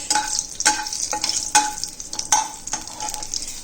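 Green chili halves being stirred in a hot pan while cooking lemon coriander prawns, a steady sizzle broken by several sharp scraping strokes of the spoon at irregular intervals, close and fairly loud.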